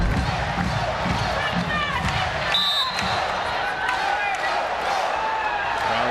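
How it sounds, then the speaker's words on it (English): A women's volleyball arena crowd, Rainbow Wahine against UC Davis, keeps up a loud, steady roar, with a sharp shoe squeak cutting through in the middle and brief voices mixed into the din. "Crowd trying to turn up the volume knob again."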